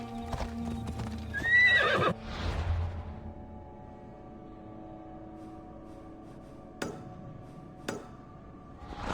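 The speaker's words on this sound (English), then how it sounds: "Ride, Phobos!" In the video game Assassin's Creed Odyssey, a horse gives a clear whinny early on, followed by soft hoof clip-clops and a couple of sharp ticks against a quiet ambient background.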